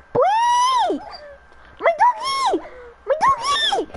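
A hurt dog in the Minecraft video game lets out three high, wavering whimpers, each a drawn-out whine that rises and then falls, with short quiet gaps between them.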